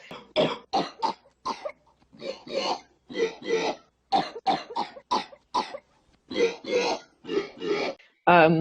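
A run of short, bursting coughs strung together in a rhythmic, almost melodic sequence like a tune played on piano, fairly loud and close, with no talking.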